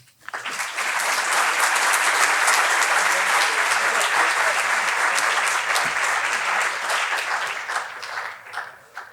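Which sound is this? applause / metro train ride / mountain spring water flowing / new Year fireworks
applause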